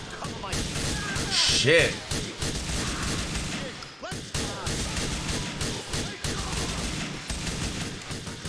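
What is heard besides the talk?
gunfire in video game Grand Theft Auto IV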